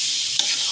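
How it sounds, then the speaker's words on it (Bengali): Olive pickle with spices being stirred in a hot pan, a steady close sizzling hiss with a faint scrape partway through, no voices. "মশলাটা মেশানোর পরে আমি আচারটাকে আর একটু নেড়ে ছেড়ে করে নিচ্ছি।"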